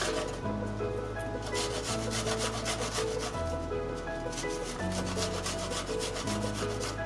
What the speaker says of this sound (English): I'm gonna switch hands, and you just go ahead and grate your garlic.